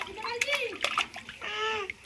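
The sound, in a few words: child splashing water at bath time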